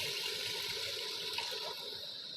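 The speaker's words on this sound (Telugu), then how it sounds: "కొద్దిగా నీరు పోసుకుందాం" Water pours steadily into a tamarind fish curry of silver fish simmering with chili powder and tomatoes, a continuous close, even rush of liquid with no talk.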